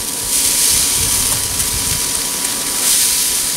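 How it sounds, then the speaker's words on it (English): Steam hisses off a chuck roast on a Tahoma 900 smoker with mesquite after a spritz of plain water, giving a steady, broad, close hiss that lasts a few seconds. "A little steam on there, folks."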